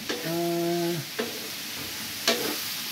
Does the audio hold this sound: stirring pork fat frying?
yes